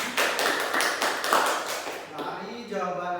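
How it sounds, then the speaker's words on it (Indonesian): Classroom of young students clapping for two classmates, a quick burst of light claps that fades after a couple of seconds, with a voice speaking near the end. "Tepuk tangan untuk Bella dan Dode"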